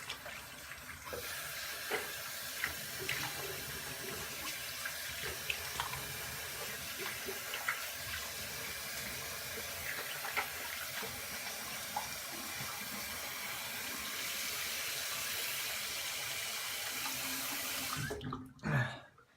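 Water runs steadily from a bathroom tap while a shaving brush is rinsed, a continuous close splashing rush lasting many seconds before it cuts off abruptly near the end.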